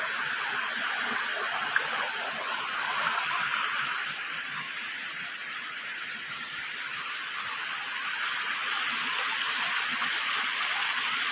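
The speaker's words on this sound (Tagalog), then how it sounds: "Diyan bumagsak ng tubig." Water from falls pouring onto piled rocks, giving a steady broadband rushing roar that stays constant and close with no pauses and no talking.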